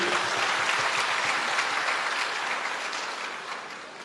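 Audience applause at a Delhi school event for former deputy chief minister Manish Sisodia: dense, steady clapping from a large crowd lasting the full stretch, tapering slightly toward the end, with no speech over it.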